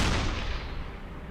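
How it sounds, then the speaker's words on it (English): An explosion aboard a ship struck by U-boat fire in the submarine game UBOAT, a loud broadband blast that decays slowly into a dense rumbling roar over about a second, with no talk. "There we go, we got an explosion."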